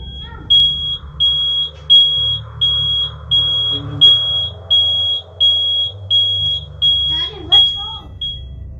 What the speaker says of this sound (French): suivi du déclenchement aléatoire du détecteur de fumée